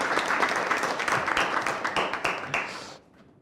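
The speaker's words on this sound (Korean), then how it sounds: "박수로 모시겠습니다" Applause in a Korean panel discussion hall as a former student committee chair is welcomed: a short, dense burst of hand clapping from a seated audience that ends abruptly after about three seconds.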